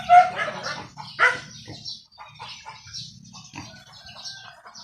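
Chickens cluck near their coops in a backyard, with a few sharp louder calls at the start and then scattered softer clucks and chatter that carry on throughout.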